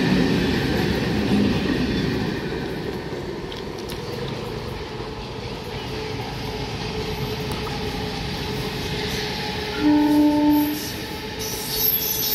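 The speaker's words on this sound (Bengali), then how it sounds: "Up Naihati Bandel local train Bandel railway junction অভিমুখে যাচ্ছে।" The Up Naihati–Bandel local train runs toward Bandel Junction with a steady, loud rumble of wagons and wheels. Brief squealing, horn-like tones rise near the end.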